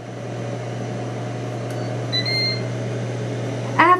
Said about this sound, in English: Let's close the lid to continue the air frying process.